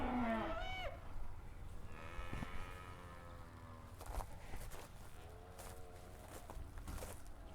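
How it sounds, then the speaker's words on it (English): Cows on a farm moo faintly at a distance, several low drawn-out calls over a quiet outdoor background with soft footsteps and light rustling. "I hear moo cows."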